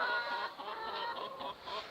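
Hens clucking on a small farm, a steady stream of soft overlapping clucks and murmurs from a flock nearby, moderately faint with no other sounds.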